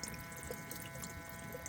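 Water running from a tap in a self-built camper van with a diesel heater, a faint, steady trickling splash with tiny drips, quiet and close throughout.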